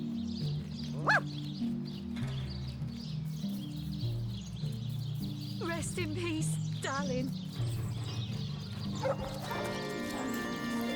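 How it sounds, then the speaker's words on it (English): Agitated dog in the video game Divinity: Original Sin, barking in short bursts amid game music and ambient effects, with people talking over it. "Looks like that dog is awfully agitated."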